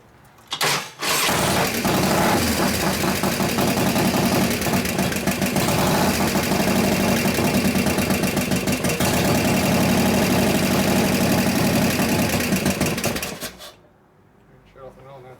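Rebuilt 2001 Indian Scout with an 88ci S&S big-bore engine fires up after a short crank and runs loud and steady for about twelve seconds before being shut off, with voices nearby.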